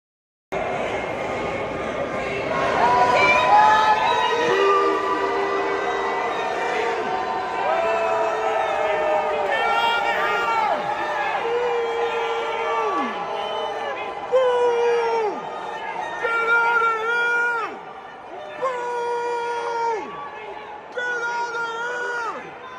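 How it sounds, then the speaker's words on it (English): A protest crowd at Union Station in Washington, DC boos and yells in a loud, sustained mass of voices, with individual shouts rising above the roar throughout. "You can hear people booing, yelling, "Get out of here.""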